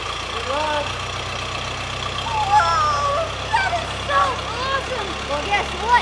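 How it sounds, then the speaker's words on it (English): A truck engine idles steadily with a low droning rumble throughout, while birds chirp and people talk quietly over it. "Do you wanna hear what the engine sounds like?"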